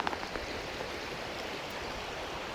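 A mountain river flows past in a continuous, dense rushing wash of water, close and even throughout, with no voices.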